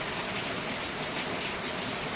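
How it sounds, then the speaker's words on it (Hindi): Heavy monsoon rain pours down in a dense, continuous roar of drops striking surfaces, close and loud, with no talking. "आप लोग भी पीछे देख रहे होंगे बारिश किस तरह झमाझम बारिश हो रही है।"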